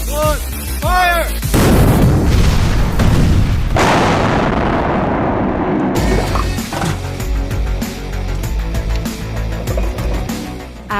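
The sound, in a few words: demolition explosion set off by army combat engineers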